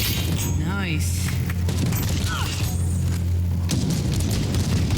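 Gunfire and explosions from the VR video game Battle Sister, with dull booming blasts and crackling shots over a constant loud rumble of game noise and music.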